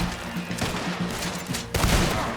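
A burst of gunfire from a battle against U.S. Army soldiers and a cannon on a hillside in Red Dead Redemption 2, with several overlapping shots and a louder blast near the end, close and loud.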